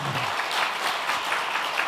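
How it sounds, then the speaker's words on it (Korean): A church congregation at a Sunday afternoon service applauds the choir steadily, a dense, even clapping from many hands sustained throughout. "잘하셨다고 박수 한번 해주시기 바랍니다"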